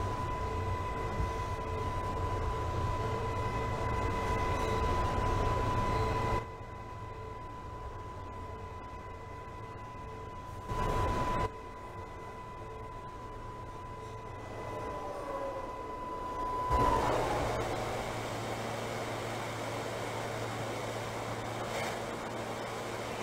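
A NYC subway J local train running in Trainz Simulator 2012, with steady low rumble and a sustained whine from the car, broken by brief louder bursts of track and car noise; no talk is heard.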